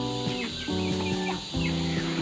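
Chickens clucking in their pen in the evening, several birds calling in short repeated bursts at close range, with brief pauses between groups of clucks.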